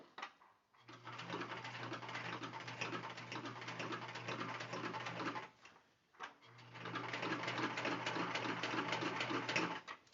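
Sewing machine stitching a car trash bag with pockets, running steadily at a fast even rhythm in two long bursts with a brief pause between, close and loud with no talk.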